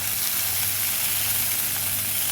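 Chopped tomatoes fry in a hot pan with garlic, a steady close hiss and sizzle that runs without a break and with no voices.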